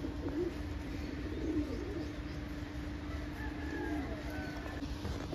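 Pigeons coo softly among birds held for sale, several low rolling calls repeating at a moderate distance over a faint background hum, with no talking.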